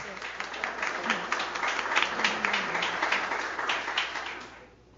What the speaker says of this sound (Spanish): les pido por favor un aplauso para Cintia